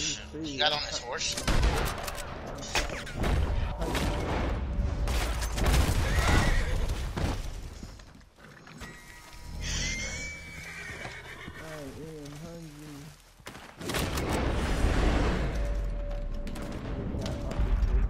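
A horse whinnies amid busy game sounds, with hooves clopping and bursts of gunfire; a person talks over much of it.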